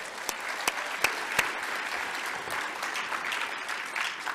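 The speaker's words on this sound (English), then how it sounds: "big round of applause for the Labs" Audience applause at the ShmooCon 2024 opening remarks, rising and falling, with a few sharp claps standing out early on, sustained throughout with no talking.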